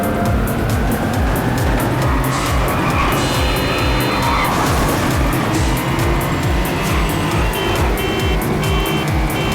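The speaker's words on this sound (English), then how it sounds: "It's a lot of cars just crashing into each other and honking their horns." Cars race in a top-down video game, with constant loud engine roar, screeching tire skids and scattered crash hits and horn-like tones layered throughout.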